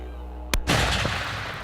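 A single sharp gunshot rings out at close range, fired at a man, followed by a lingering rumbling echo that fades over the next second.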